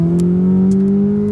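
A Ferrari 488 GTB's 3.9-liter twin-turbo V8 holds a steady, smooth engine drone with a slowly rising pitch, close and fairly loud, with no one speaking.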